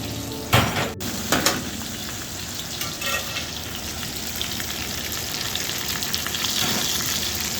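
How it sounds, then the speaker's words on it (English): Herb-crusted lamb shoulder with a panko coating sears in hot oil in a sauté pan, giving a steady close sizzle and fry with a few clanks of the pan and utensils near the start. "we're gonna put them straight back into the hot saute pan, and we're gonna cook them for about a minute on each side."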